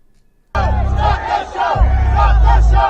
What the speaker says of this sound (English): on the video, it kind of sounds like a lot of people chanting it